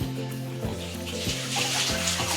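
Water runs and splashes steadily into a container for pigs, a continuous pouring rush with some low rumbling underneath throughout.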